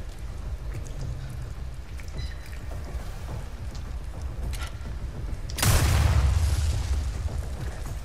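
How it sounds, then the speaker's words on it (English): Bomb blast in Resident Evil 4: Separate Ways: a sudden heavy boom near the end bursts out of steady rain-like ambient noise and rumbles on loudly for a couple of seconds. "I hear a bomb."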